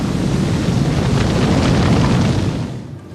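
A vortex cannon blasting against a wall of water in a shuttle-style water deluge test, heard as a loud, sustained roaring rush that stays dense for nearly three seconds and then trails off.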